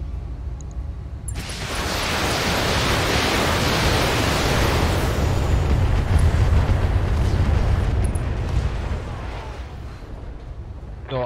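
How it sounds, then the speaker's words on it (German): An artillery strike in the BattleTech mech combat game lands as a sudden, loud explosive roar that swells into a sustained, thick rumbling barrage, dense with low-end energy and lasting several seconds without any voices. "So, Artillerie."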